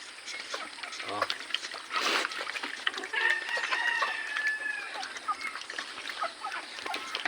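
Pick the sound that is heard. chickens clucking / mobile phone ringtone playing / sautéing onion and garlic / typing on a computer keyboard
chickens clucking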